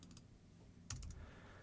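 Keys pressed on a computer keyboard during After Effects work: a few quiet, crisp clicks close by, with a brief cluster of taps near the end.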